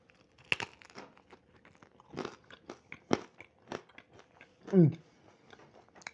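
Several sharp, crisp crunches of crispy pizza crust spread across a few seconds, with chewing between them, close to the ear.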